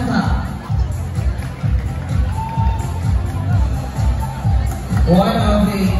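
A crowd at a local pageant's top 10 question-and-answer round, cheering and clamoring for a finalist in a loud, continuous hubbub of rhythmic shouts, with a voice over a microphone speaking through it.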